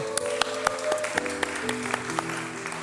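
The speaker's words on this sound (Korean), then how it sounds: "저희 하나님께 크나큰 영광의 박수 한번 돌리겠습니다" A youth worship congregation in a Korean church applauds during a Sunday service. It's a soft, continuous wash of clapping with scattered sharper claps standing out, heard over a steady tonal hum in the room.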